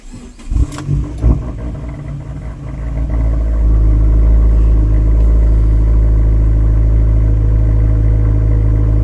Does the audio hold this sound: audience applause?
no